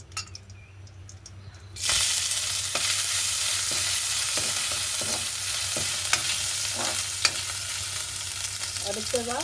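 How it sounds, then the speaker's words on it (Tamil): Pounded ginger paste drops into hot oil. After nearly two seconds of quiet, a loud, dense sizzle bursts in and continues steadily up close, with occasional small stirring clicks. "எண்ணெய் சூடாகினோன்னு முதல்ல இடித்து வச்சுருக்க இந்த இஞ்சி பேஸ்ட்டை சேர்த்து கொள்ள போகிறோம்"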